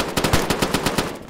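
Machine gun fire in the video game ArmA: about eight sharp, evenly spaced bursts rattle off in quick succession, loud and close, with no voices over them.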